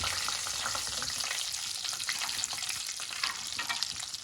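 Fish pieces fry in hot oil in a kadhai, giving a steady, loud, dense sizzle and crackle that holds evenly from start to finish with no talking.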